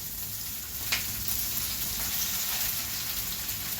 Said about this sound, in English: We're going to go ahead and add the spinach.